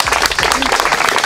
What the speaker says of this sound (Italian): dai, un applauso per Porcone!